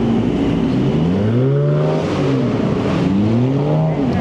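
Sports cars leaving a car meet in Miami rev and accelerate one after another, engine notes rising and falling in repeated sweeps, loud and fairly close.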